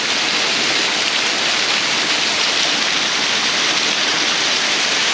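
Water runs off the edge at Linda Falls in a loud, bright, steady hiss, close and unbroken, like a dense spray pouring continuously.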